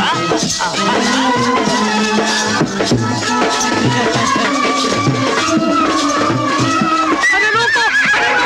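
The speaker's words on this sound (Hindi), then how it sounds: "अजी लो जी, घोड़ी आ गई।" A mare in a Hindi action film gives loud whinnying neighs, prominent and close, over a busy soundtrack background.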